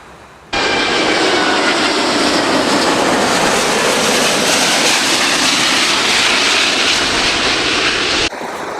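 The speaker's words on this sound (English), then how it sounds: "the planes come right overhead, so you can really see them right in front of you, flying right past you" A jet airplane roaring loud and close as it passes overhead on takeoff or landing beside IKEA Tempe, a sudden onset into a steady, broad rushing roar that holds for several seconds.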